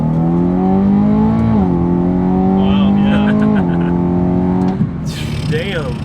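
Supercharged BMW M3 engine revving and pulling hard under acceleration, a loud steady drone rising in pitch in two shifts before easing off, with passengers talking over it.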